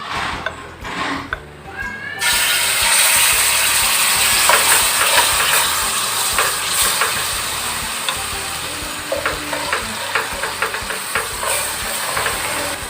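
Ground spice paste hitting hot oil in a pan, a loud steady sizzle and hiss that jumps up suddenly and then holds for several seconds, with small crackles and spatters and no talking.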